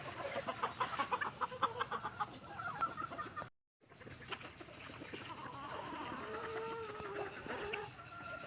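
Chickens cluck on a farm, with repeated low clucks and soft calls at moderate distance over steady background noise, broken by a brief dropout partway through.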